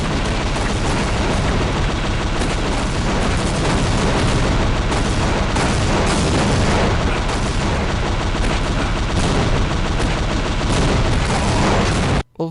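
Loud, continuous game combat in a Team Fortress-style shooter on a Dust Bowl map: dense gunfire, grenade explosions and a Pyro's flamethrower roar blend into an unbroken, close barrage that cuts off abruptly near the end.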